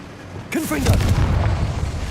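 A Confringo spell in Hogwarts Legacy sets off a sudden close boom that rolls on into rumbling debris, just after a voice calls out.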